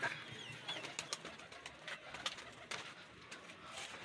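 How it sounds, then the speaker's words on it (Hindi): Pigeons coo softly in repeated low murmurs over a steady outdoor hiss, with faint flutters and no talking. "ये देखें ये है वो कबूतर ना"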